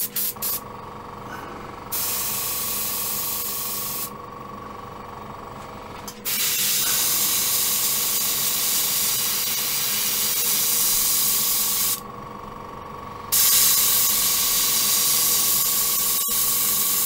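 An airbrush sprays Vallejo paint in a steady, close hiss that runs in several long bursts with short gaps, continuing almost unbroken across the whole stretch, with no talking.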